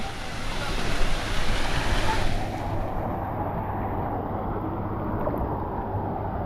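Rushing water from a waterfall at a waterpark in Phuket, a loud, dense wash for the first two seconds that then eases into a steadier, softer roar.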